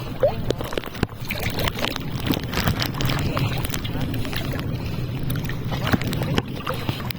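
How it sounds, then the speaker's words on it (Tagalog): Sea waves strengthen at high tide along a West Philippine Sea shore, giving a rough, continuous wash and gurgle with wind buffeting the microphone and a voice talking over it. "Yan, lumalakas na rin yung alon."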